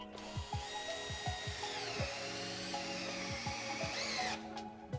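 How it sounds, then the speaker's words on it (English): A power drill driving screws into wall studs to hang cleats for box shelves, a steady whirring whine with repeated clicking ratchet ticks, close and continuous, ending abruptly, with no talking. "I first found my studs so I knew where to drive in screws."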